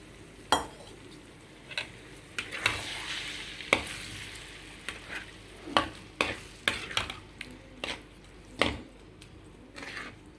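Eggs poured into a hot pan with fried onion and chilli powder sizzle quietly, joined by a spoon or spatula repeatedly scraping and tapping the pan in sharp, irregular clicks while the egg is stirred.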